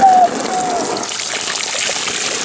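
Hot water poured from a basin into a paddling pool outdoors, a loud initial gush followed by a continuous splashing pour for a couple of seconds.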